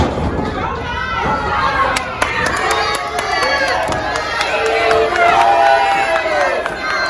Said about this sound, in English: This crowd showing their unappreciation.